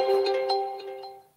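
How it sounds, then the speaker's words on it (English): A mobile phone gives a short electronic tone, a few chiming beeps in quick succession that fade out within about a second and a half, heard alone in a quiet room. "my phone just made a beepy noise"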